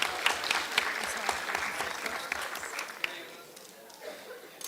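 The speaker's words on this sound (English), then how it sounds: "Give him another round of applause." Applause from a crowd at a county steer show for the champion junior showman, scattered claps over a steady wash that slowly thins out and fades toward the end.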